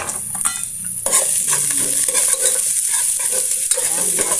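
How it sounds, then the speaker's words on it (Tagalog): Ginger and garlic being sautéed in a pan, a bright continuous sizzle close up with frequent scraping stirs throughout. "Ayan, gisang-gisa na po ang ating luya. Lalagyan na natin yung ating bawang."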